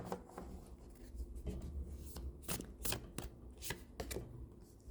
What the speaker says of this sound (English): Let's shuffle again.